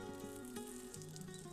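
Zucchini frying in a pan, a faint, steady sizzle of hot oil crackling continuously beneath a sustained tonal hum.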